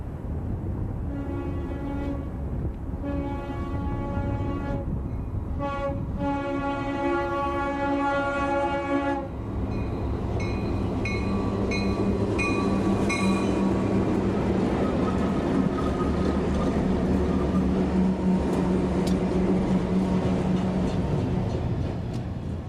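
Santa Fe train working up the 2.2% Cajon Pass grade at Blue Cut, opening with repeated loud multi-tone horn blasts, then a heavy, building diesel roar and rail rumble that grows louder and fills the rest.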